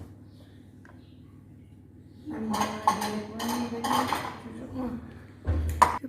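Dishes and utensils clatter in a kitchen as diced onions go into a small bowl, with a few clinks and scrapes of the bowl after a quiet start and a low background hum.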